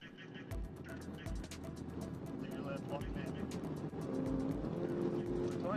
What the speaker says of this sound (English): both muscle cars accelerated away.